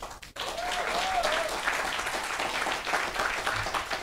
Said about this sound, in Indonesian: Jadi sekali lagi tepuk tangan buat Bapak Ibu.